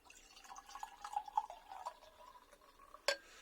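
Quiet cider trickles and splashes into a glass, with small bubbly drips, ending in a brief bright clink.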